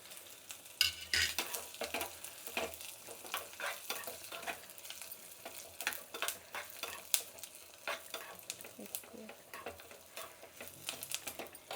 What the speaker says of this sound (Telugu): నూనె వేడెక్కింది, వడిమేసేస్తున్నాను.